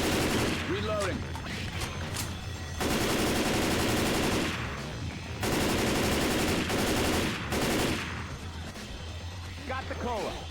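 Sustained automatic gunfire in the zombie shooter Left 4 Dead 2, loud rattling bursts separated by short pauses, with brief character voices between the volleys.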